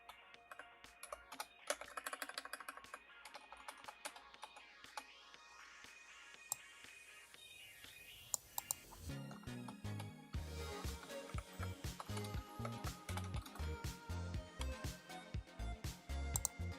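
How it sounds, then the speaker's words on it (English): Rapid keystrokes on a computer keyboard during a coding session, steady clattering bursts that grow louder and denser halfway through, no talking. "I don't have to keep typing that over and over again."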